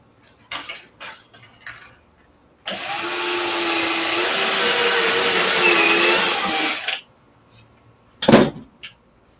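A power drill drives screws into wood while a router table is built, one loud sustained whirring burst of about four seconds between quieter handling knocks and clatter of wood and tools.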